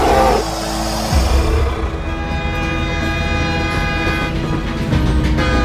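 A train in a Jurassic Park video game rumbles steadily with sustained horn tones ringing over the heavy rolling noise, loud and continuous throughout with no talk.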